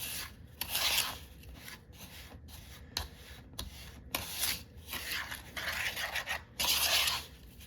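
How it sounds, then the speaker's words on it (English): A spatula scraping butter and sugar off the bottom of a mixing bowl for snickerdoodle dough, with repeated close rasping strokes in an uneven rhythm and fairly quiet overall. "Make sure you scrape the bottom of that bowl and get the butter off the bottom."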